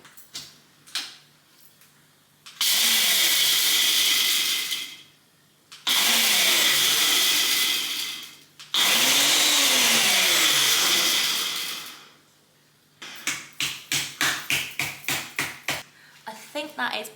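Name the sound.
blender running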